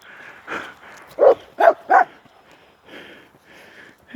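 A dog gives three sharp barks in quick succession, close and loud, set against quieter background sounds and a faint voice.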